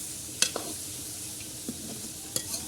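Tinda (apple gourd) sabzi with onions stir-fried in a pan, a soft sizzle with a few sharp clinks of the spoon against the pan scattered across the quiet stirring.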